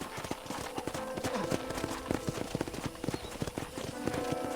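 Hooves clip-clop in a quick, steady rhythm, several horses walking close by on a hard surface at a corral, fairly quiet overall, in the video game Red Dead Redemption.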